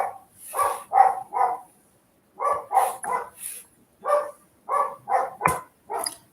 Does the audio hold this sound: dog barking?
yes